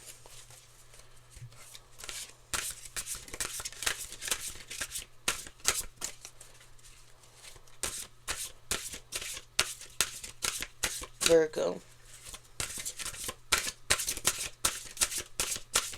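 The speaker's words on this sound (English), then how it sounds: "One more shuffle" Tarot cards are shuffled again and again in quick riffling bursts, crisp and close, with a person talking between and over the shuffles.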